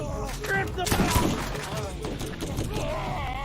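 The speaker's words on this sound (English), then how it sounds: "Now, there's some tricks you can do with the shotgun, and they behave very weirdly." A shotgun fires in a video game, producing a dense burst of blasts and clatter around one second into a busy, continuous stretch of game sound.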